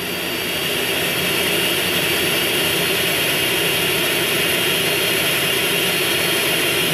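A plane's engine roars continuously in Grand Theft Auto San Andreas, swelling in over the first second, then holding a loud, even jet-like drone with no voices.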